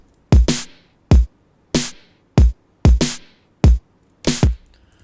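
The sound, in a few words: layered snare drum samples in Logic Pro X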